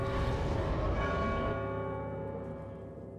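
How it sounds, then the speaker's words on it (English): A large bell tolls in God of War II, its deep ringing tone swelling loud and then slowly fading over a few seconds, with no voices. "So every time the bell rings"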